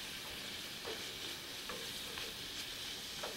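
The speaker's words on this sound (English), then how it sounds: "And that's going in here, and I'll continue to stir this around." Pasta simmers in beef broth in a pan, a soft continuous bubbling sizzle with faint scrapes of a spoon stirring at a quiet level, and no talking.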